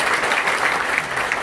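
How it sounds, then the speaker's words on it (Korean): Audience applause after a short, intense musical performance at a lecture forum, a loud, continuous wash of many hands clapping together. "짧지만 강렬한 뜨거운 연주 다시 한번 큰 박수 부탁드리겠습니다"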